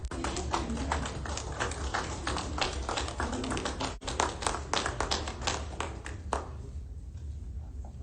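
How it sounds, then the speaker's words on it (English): People clapping at a higher education news conference, with a sustained run of rapid, close applause that fades near the end, alongside some talk. "now you clap"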